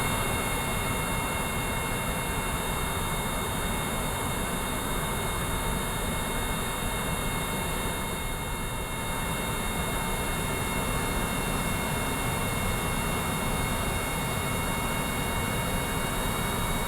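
Aircraft jet engines idling in the video game Kerbal Space Program, a loud, constant turbine whine and roar with steady high tones holding unchanged throughout, no voices over it.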